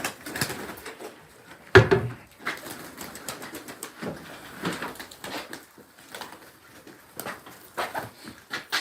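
Pigeons coo in soft, irregular bursts while pecking at scattered feed nearby, with one sharp knock partway through.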